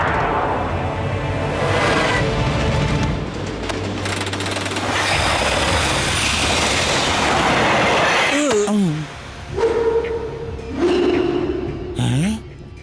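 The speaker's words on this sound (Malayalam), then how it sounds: "ഇതെന്താ ട്രെയിൻ നിന്ന് പോയത്?" A cartoon train runs along its track with a loud, steady rattling clatter for several seconds, then cuts out. Animated voices and sound effects follow.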